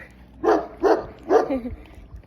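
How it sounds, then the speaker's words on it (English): A little dog lets out three short, close barks in quick succession, each a bright yappy burst, with a faint voice barely present in the background. "He's such a little adorable dog."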